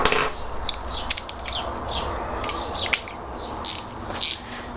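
Ratchet wrench with a 13 mm socket undoing the fuel tank strap bolts on a classic Fiat 500: rapid, close clicking ratchet strokes in uneven bursts with short pauses, no talking.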